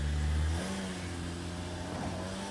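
A Rialta RV fitted with a new generator pulls away, its engine humming low and steady, loudest at the start and then settling into a fainter drone as it moves off.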